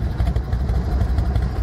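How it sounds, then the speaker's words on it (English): A carbureted 2001 Harley-Davidson Dyna Wide Glide with a rubber-mounted engine idles nearby in a steady, loping low rumble with even pulses. "I'll fire it off and let you listen to it. Fires right off, runs great."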